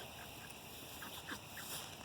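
A flock of ducks being herded to bed at night in winter, giving faint, scattered quacks over a steady outdoor background hiss.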